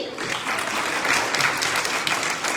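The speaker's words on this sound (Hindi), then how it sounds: "तालियां बजा दो भाई।" Audience clapping for a child at the closing ceremony of a ten-day patriotic songs workshop, a steady, dense wash of applause from many hands held at even loudness throughout.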